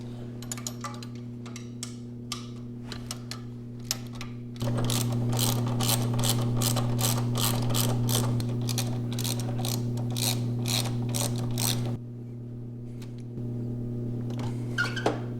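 Ratchet tightening a part back up on a Honda CRF100 dirt bike during an oil change, rapid clicking pawl strokes in quick bursts over a steady hum, close and crisp with no talking.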